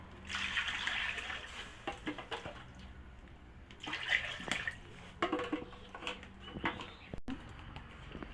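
Water poured into a wok while cooking jackfruit seeds, quiet splashing and trickling in short bursts with clinks of utensils, close and faint, without speech.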